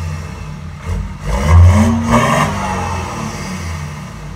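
A BMW M5 converted to run on heating oil, its engine firing up and revving in a couple of swelling bursts before settling into a steady, rumbling idle close by.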